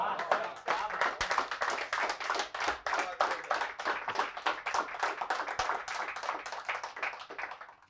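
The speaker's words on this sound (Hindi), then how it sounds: "मजा आती है जब ऐसी तालियां सुनने को मिलती है और कविता को दाद मिलती है।" An audience claps for a poem at a Hindi poetry reading, with steady, fairly close hand claps at a brisk rhythm that keep going for several seconds before trailing off.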